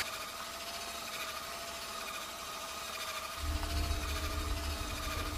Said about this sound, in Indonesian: Lalu ini saya mixer sampai mengembang kental dan berjejak ya, seperti memixer bolu gitu ya teman-teman.